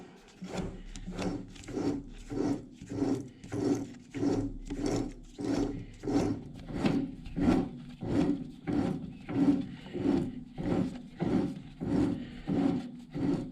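A metalworking shaper machine cutting with a steady back-and-forth rhythm, about two scraping strokes per second, each a rasping swell followed by a brief lull, repeated evenly at moderate loudness.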